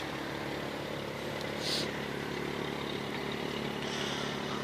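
A 1997 Ford Falcon EL idles steadily just after a cold start, a low continuous engine hum with a faint constant drone, heard from nearby outside the car with no talking over it.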